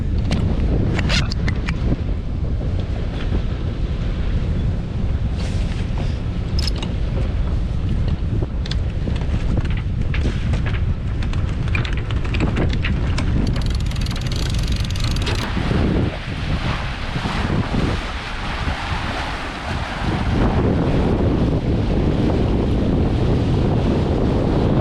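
Sailboat under sail on the West Coast of Scotland, single-handed: steady, loud wind roaring across the microphone with waves rushing and slapping along the hull throughout, no voices.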